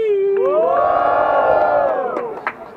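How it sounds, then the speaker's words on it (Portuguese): A rap battle crowd cheers and shouts loudly together, a rising swell of whoops that holds for a couple of seconds before fading. "Quem gostou das rimas do JB faz muito barulho"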